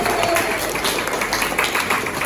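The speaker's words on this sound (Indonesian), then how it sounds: "berikan tepuk tangan" Classroom applause at a university teaching session: a group claps continuously and fairly loudly, with a faint tone and some background murmur under the clapping.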